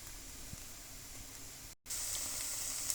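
Garlic and onion browning in a pan give a soft, steady sizzle with a faint hiss, broken by a brief silent gap before the quiet frying resumes.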